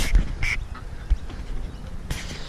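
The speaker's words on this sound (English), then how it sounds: "Look at all the ducks." Ducks quacking several times at a moderate distance outdoors, with scattered calls over a steady background of ambient noise.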